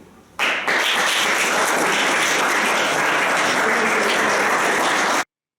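Students' applause as acclamation, loud sustained clapping from many hands that bursts in after a brief quiet moment and holds steady until it cuts off abruptly.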